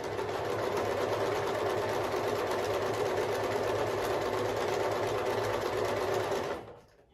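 A Pfaff Select 3.0 sewing machine runs in one steady, close, continuous stitching burst with a fast even needle rhythm, stopping abruptly near the end.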